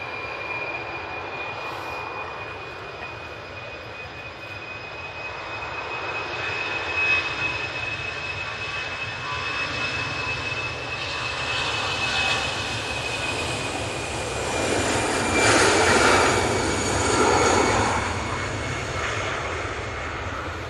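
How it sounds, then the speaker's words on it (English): An easyJet airliner inbound from Faro on final approach to land at Manchester Airport, a steady engine roar with a whining tone that swells gradually as it nears, loudest toward the end. "On final now, we do have the Easyjet coming in from Faro."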